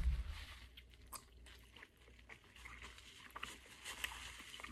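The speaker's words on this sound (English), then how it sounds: "Chewing fast." Someone chews a spicy ghost pepper gummy candy, producing quiet, irregular crunching and sticky mouth sounds close to the mic, with no talk over it.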